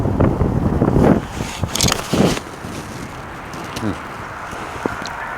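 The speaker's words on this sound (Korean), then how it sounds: "바람 상당히 많이 불니다" Strong wind blowing across an open golf course buffets the microphone in loud rumbling gusts at the start, then eases to a steadier low rush with a few brief knocks.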